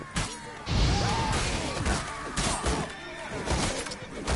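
A horse in The Witcher 3 neighs and whinnies amid game combat, with thuds and crashing impacts around it, loud and close, mixed with battle noise.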